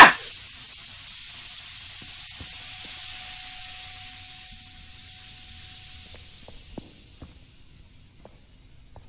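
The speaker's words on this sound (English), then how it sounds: "It's just steam." Steam hisses in the video game The Fire Of '98, a sudden loud burst that settles into a long, steady hiss and slowly fades, followed by faint clicks and drips in a quiet room.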